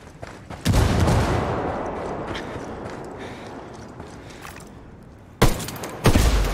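A frag grenade in Ghost Recon Wildlands bursts with a sharp, loud blast that rolls off into a long decaying rumble, followed near the end by two more quick, hard shots.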